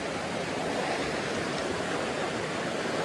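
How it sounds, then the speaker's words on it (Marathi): A village river where children swim flows with a steady, hissing rush of water, continuous and even throughout with no voices. "ही आपली गावाकडची नदी आहे आणि सगळे पोहायला वगैरे पोरं वगैरे आलेले आहे इथे"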